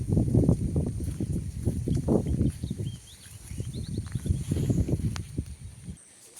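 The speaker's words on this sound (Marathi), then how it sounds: "मी शांत बसते आणि तुम्हाला पक्ष्यांचा किलबिलाट ऐकू येईल" Faint high chirps of birds scattered in the background of the countryside after a night of rain, under loud rustling and low rumbling noise that drops away near the end.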